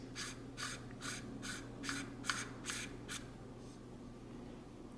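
Front glass element being screwed back into a Minolta MC Rokkor-PG 58mm f1.2 lens, a series of about eight short, faint rasping scrapes in an even rhythm, close and quiet.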